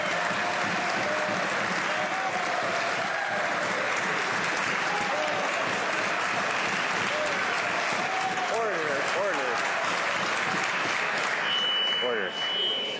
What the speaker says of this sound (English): Members are to hold off on their applause until the person making the question is finished answering it.